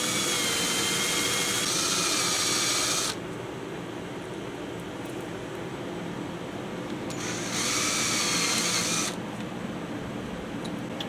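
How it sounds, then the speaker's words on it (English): A power drill bores out rivets on a Yamaha Virago 250 motorcycle, two loud whining bursts of high-pitched motor with a quieter pause between them, close up. "we've got these two rivets here that we've got to drill out"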